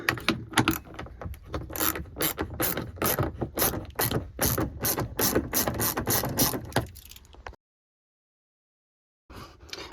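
Ratchet wrench with a 10mm socket turning out a bolt in the trunk of a Toyota RAV4: a long run of rapid, loud, close clicks in steady bursts, then a short silence and a brief final click.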